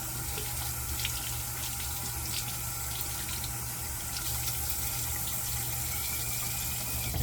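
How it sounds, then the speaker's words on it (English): Water running from a tap onto a shaving brush, a steady close gushing stream with little variation that continues throughout with no speech. "let me get this brush wet"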